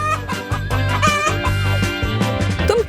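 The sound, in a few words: chicken clucking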